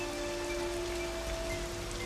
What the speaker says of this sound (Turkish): yağmur yağıyor gel buraya